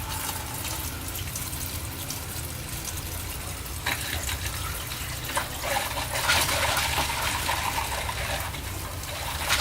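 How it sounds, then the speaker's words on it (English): A faucet at an RV sink runs pink antifreeze through the water line during winterization, a steady close splashing, hissing stream that grows slightly louder and brighter partway through, with no one talking. "I like to do 1 valve at a time, so you can do either hot or cold, and run it until you see pink"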